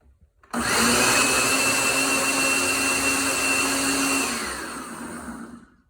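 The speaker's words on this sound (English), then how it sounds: "We're gonna zip this up to get that cilantro chopped up nice and fine." A blender motor whirs up sharply chopping cilantro and runs steadily for several seconds, a high buzzing blend that tapers off near the end, close and loud with no voices.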